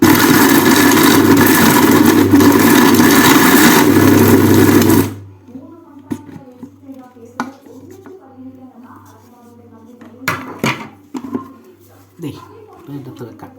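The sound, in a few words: mixer grinder crushing dry fruits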